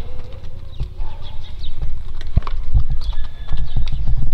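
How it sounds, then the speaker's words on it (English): Horses walk past on a dirt road with steady, fairly close clip-clopping hooves, mixed with birdsong and outdoor background noise. "We got people going by on horses."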